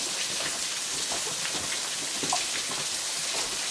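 Waterfall pouring into a rock shelter on a hiking trail at Big South Fork, a dense, steady hiss of splashing water that fills the space evenly and continuously, with no voices.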